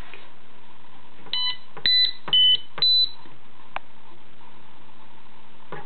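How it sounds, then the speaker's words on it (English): Several short electronic beeps from an Arduino LCD shield's buttons at 1, 2, 3 and 4 kilohertz, spaced irregularly over a quiet background hum, with a few soft clicks between them. "each button beeps at a different frequency, 1, 2, 3 or 4 kilohertz"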